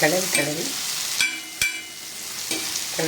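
Food stirred and sautéed in hot oil in a pan, with steady sizzling and a few sharp scraping stirs of the spoon against the pan, close and fairly loud, with no speech.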